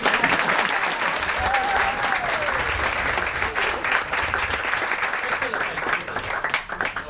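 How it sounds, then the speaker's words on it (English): Steady applause from a concert audience, dense clapping throughout at an even level with a few voices mixed in. "can we have a round of applause for our host today"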